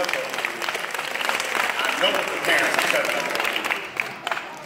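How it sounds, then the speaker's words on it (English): An audience applauds parent volunteers at a community event, dense clapping swelling and then tapering, with voices talking and calling out over it and a few loud close claps near the end. "Get these volunteers a round of applause."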